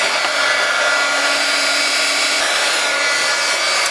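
A heat tool blows a steady, loud whooshing hum as it heats puff paint on a handmade Christmas card, continuous and close with no talk.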